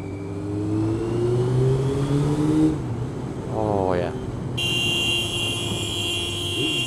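A car with a newly fitted exhaust revs hard and accelerates away in a rev bomb, its engine note climbing, dropping, then rising again in a rising whine, loud and close, with chatter faintly in the background.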